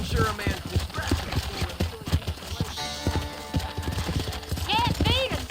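Horses galloping in a race in the video game Red Dead Redemption, rapid rhythmic hoofbeats running throughout, with a whinny and voices talking over them.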